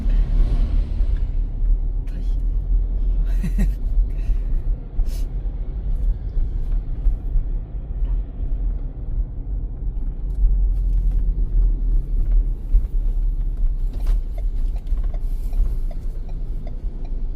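A car moves through traffic, its steady low engine rumble and road noise running continuously with faint mechanical rattles and a few brief clicks, close and fairly loud.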